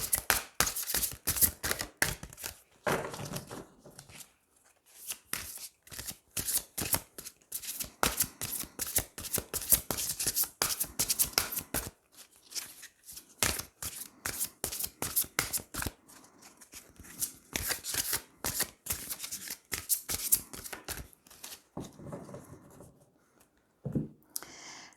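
Tarot cards shuffled by hand again and again, dense crisp riffling bursts broken by short pauses, close and fairly quiet with no voices.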